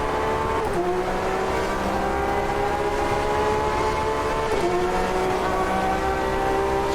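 Porsche race cars lapping Monza in Automobilista 2, engines droning steadily and loud throughout with shifting pitch as cars run alongside, no talk.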